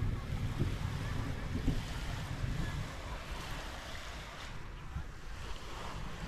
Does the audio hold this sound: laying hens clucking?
no